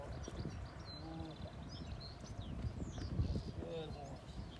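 Horse hooves clip-clop on the ground during groundwork preparation for a first ride, a steady irregular patter close by, with a voice talking over it and occasional birds chirping in the background.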